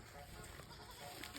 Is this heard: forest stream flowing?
no